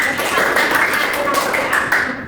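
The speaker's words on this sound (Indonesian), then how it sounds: "Kalau kita tepuk tangan buat teman-teman ya" Students in a classroom clap for their classmates, a dense, steady patter of many hands lasting the whole moment, fairly loud and continuous.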